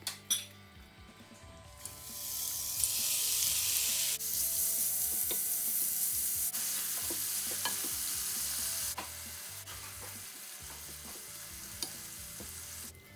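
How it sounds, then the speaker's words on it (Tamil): Shrimp coated in chili powder, turmeric and salt fry in a pan with a steady, close sizzle, while a utensil stirs and clinks against the metal now and then; no voices. "இறாலை இப்படி புறம்பாக பொரித்து எடுத்து வச்சுட்டு செய்ய துவங்குவோம்."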